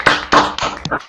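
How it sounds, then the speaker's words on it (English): Applause for an award winner at a mathematics talk session, a short burst of clapping with uneven loud swells from a nearby audience. "So let's give Stefan a warm round of applause."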